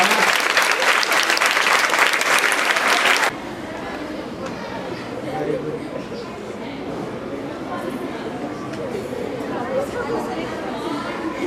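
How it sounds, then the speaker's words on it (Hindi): Students at a women's college disaster-preparedness training clap loudly together for about three seconds, then the applause stops and chatter and indoor movement continue at a lower level. "ताली बजाओ, बहुत बढ़िया"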